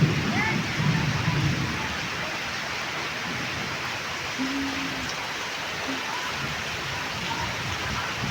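Heavy first-of-season rain falls in a village, giving a steady, dense hiss of downpour and running water that lasts throughout, with brief faint voices early on.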